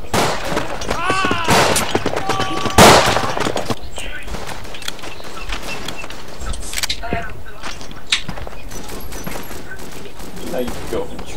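Rapid bursts of machine gun fire and scattered gunshots in the World War I shooter game Verdun, loud and close at first then thinning into distant battlefield noise, with players talking over it.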